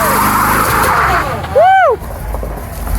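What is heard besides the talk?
1975 Chevrolet C10 truck tires spinning, burning rubber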